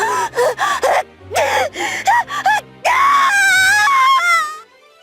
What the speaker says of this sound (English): A series of deafening screams echoed across the throne hall.